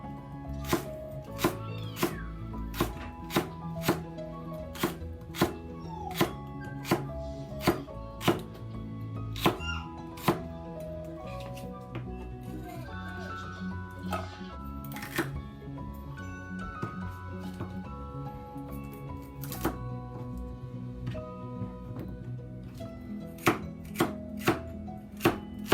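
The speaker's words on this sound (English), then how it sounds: "And then the celery we cut like this." Knife chopping celery on a cutting board for a stir-fry of celery with pork, a steady run of sharp, close, fairly loud chops with brief pauses, no talking.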